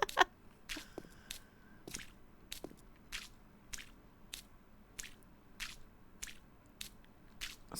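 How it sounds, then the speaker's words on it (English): Soft wet paint splashes in 7 Days to Die, repeating at a steady rhythm roughly every half second, quiet and close with no talking. "Especially with that little splash noise."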